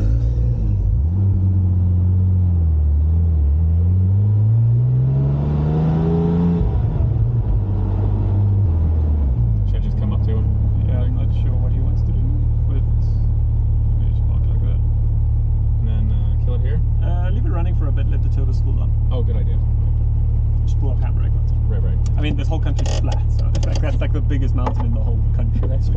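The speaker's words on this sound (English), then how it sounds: "I'll leave it idling for maybe like 5 minutes or so tops, and then I'll kill it." A W Motors Lykan Hypersport sits idling outdoors with a loud, steady low engine rumble throughout, and a brief rise and fall in pitch early on. People talk over it intermittently.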